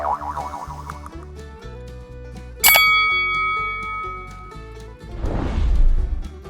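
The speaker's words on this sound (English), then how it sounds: "ring the bell to never miss an update." A notification bell sound effect gives one bright metallic ding that rings on and slowly fades over soft background music, followed by a brief whooshing swell.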